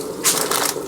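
A new sleeve of crackers being opened, a short close crinkling rustle of plastic wrapper lasting under a second.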